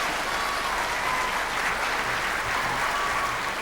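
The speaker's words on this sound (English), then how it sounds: "Big round of applause for Caitlin," Steady, dense applause from an audience at a 2019 awards ceremony, loud and even throughout with no voices on top.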